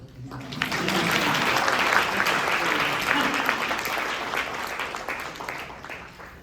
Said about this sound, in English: maybe we could do a round of applause